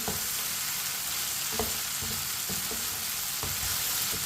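Large-cut green chillies and tomatoes frying in a pan and stirred with a spoon: a steady loud sizzle with a few scattered clicks and scrapes of the spoon, close by, no talking.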